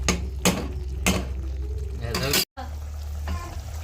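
Makhana curry bubbles and sizzles in a pot with a steady simmering hiss, broken by several louder bursts of stirring or spattering.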